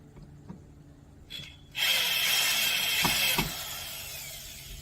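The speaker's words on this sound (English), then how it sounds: "That's how much power that drill has." A DeWalt drill drives a screw into wooden steps, a loud sustained whir lasting about two seconds, preceded by a short burst and followed by a couple of knocks as it winds down; no talking.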